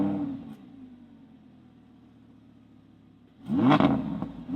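An Audi R8 Spyder's exhaust: a steady low idle drone, then a sudden loud rev that flares up and falls back near the end.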